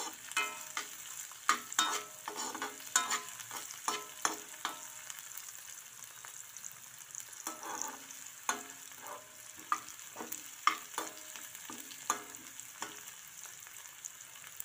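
Onion pieces stir-fried in a pan, a steady soft sizzle beneath repeated scraping and tapping strokes of a spatula, close and moderately quiet throughout with no voices, for a beetroot and moong dal curry.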